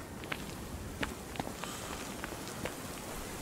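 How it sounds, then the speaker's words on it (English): Steady rain falls in the horror game Lunacy: Saint Rhodes, a constant hiss with scattered sharper taps and footsteps crunching through a village. "I need to look for shelter from the rain before I catch cold."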